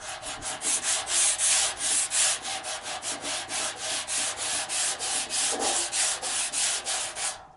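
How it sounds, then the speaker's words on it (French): Hand sanding on a car body panel, with the pad tilted slightly to work the edge zones: steady rhythmic scraping strokes, loud and close, repeating evenly with no voices. "il faut que j'aille poncer bien"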